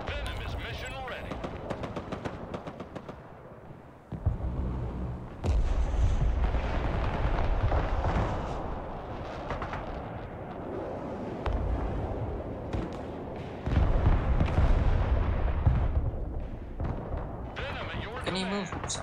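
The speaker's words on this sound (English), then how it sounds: "I'm gonna drop artillery on this point." An artillery strike in the real-time war game Broken Arrow brings a series of heavy, booming impacts and rumbling blasts, loud and close, that come in waves over battlefield noise, with voices talking throughout.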